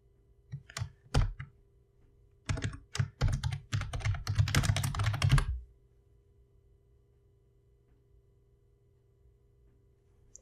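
Typing on a computer keyboard, a few isolated key taps first and then a dense, fast burst of clicks up close before the sound stops abruptly and a faint hum remains.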